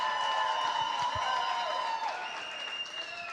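A live studio audience applauds and cheers in a loud, dense burst as a vote for Scott and Matthew Golden, then thins out gradually toward the end.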